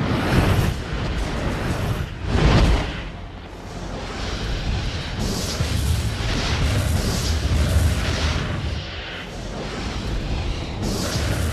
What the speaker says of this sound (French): C'est un canon qui tirait 20 coups à la minute et ça boum, boum, boum, boum.